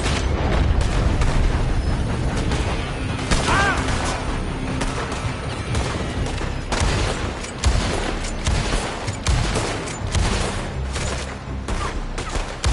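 Gunfire rings out from a building during a firefight in Red Dead Redemption 2, with dense volleys of shots and booming blasts continuing throughout.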